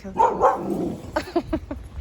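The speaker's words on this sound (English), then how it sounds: "That sounds like a mean dog." A dog barks from a house along a residential street in Toronto's South Hill, a few sharp yaps in quick succession following some nearby chatter from people walking.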